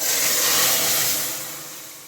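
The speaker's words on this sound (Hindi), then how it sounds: "अब हम दाल को तड़का लगाएंगे" A steady, loud hiss of hot tempering oil sizzling as it is poured into cooked lentils, strongest at first and then gradually fading over a couple of seconds, with no voices.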